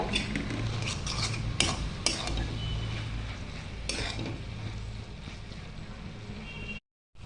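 Green chillies and spice powder being stirred into a vegetarian cabbage curry in a pan, soft scraping and clinking of a spoon over a low simmering sizzle, ending abruptly.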